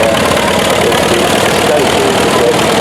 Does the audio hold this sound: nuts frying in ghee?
no